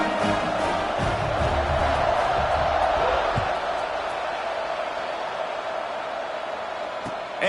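Stadium crowd in College Football 26 swelling into loud cheering and roaring, dense at first with a few thuds, then easing to a softer steady murmur, with brief talk over it.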